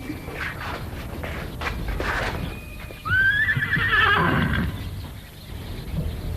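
A restless horse whinnies in one long, loud, wavering neigh mid-clip, with hoof clip-clops and shuffling before and after it, close by and with no talk.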